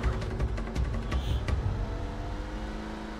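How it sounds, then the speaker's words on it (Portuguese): A car in a GTA MTA roleplay game speeds along with a steady engine whir and rumble, revving and surging with rhythmic bumps before settling into an even drone, close and without talk. "Bom que o carro dos caras aqui é rápido"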